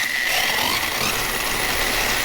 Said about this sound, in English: Look at how bad it vibrates here.